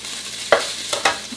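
Fried hamburger is lifted from a pan with a slotted spatula, making a few short scraping clatters against light background sizzle.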